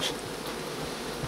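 A honeybee buzzes steadily and close up as it emerges from an opened queen cell in a queenless hive, a continuous droning hum.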